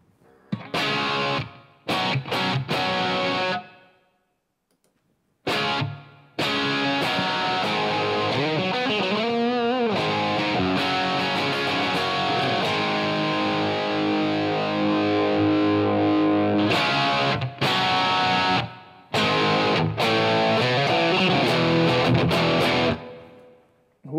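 Distorted electric guitar riffs through a Line 6 Helix amp model with stereo plate reverb at the end of the chain, loud chords and runs broken by short pauses where the reverb tails ring out.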